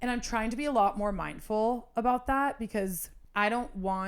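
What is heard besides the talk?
No distinct noise like a dog, phone or traffic.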